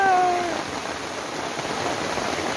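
Heavy rain falls steadily in Tangerang, a dense continuous hiss of downpour with no talking, and a brief tonal whine at the very start.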